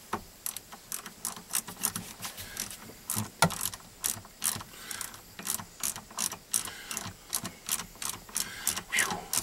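A ratchet wrench clicks as it turns a T30 Torx bit while fixing the tow/haul button on a 2002 vehicle outdoors, with quick bursts of close, sharp clicking repeated in steady rhythm across the whole stretch.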